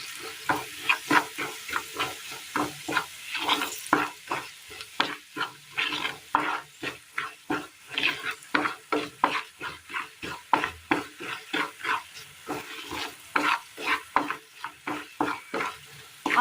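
Coriander, turmeric, sambar and chilli powders with a bit of asafoetida roasting in a pan for a curry, with a steady run of rhythmic stirring scrapes over a soft sizzle, close and fairly loud with no talking.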